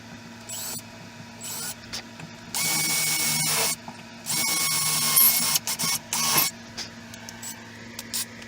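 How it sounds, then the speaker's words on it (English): A small power drill whirs in several short bursts while drilling pilot holes for an RV bed frame repair, two longer runs in the middle and quick stops and starts between them, close by with no talking. "Drill my other pilot holes."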